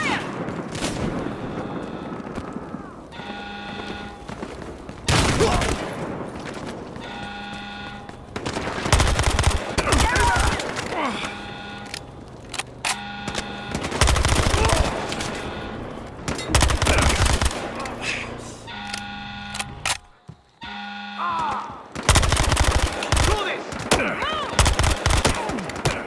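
Repeated bursts of gunfire and machine-gun fire in the Battlefield Hardline video game, loud and close, coming in dense volleys separated by brief lulls, with game noise between the bursts.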